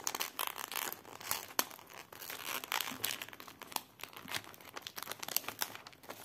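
A taped gift package is opened slowly, with soft paper crinkling, crumpling and short tearing sounds as tape is peeled, close and quiet.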